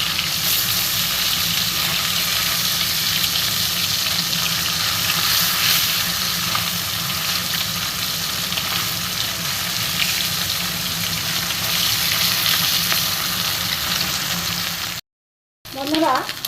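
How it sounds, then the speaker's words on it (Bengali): Small parshe fish frying in a pan of hot oil, giving a steady, loud sizzling hiss that runs almost unbroken, then cuts out briefly near the end. "মাছগুলো আমি একটা একটা করে দিয়ে দেবো। ভালো করে ভেজে নেবো আগে।"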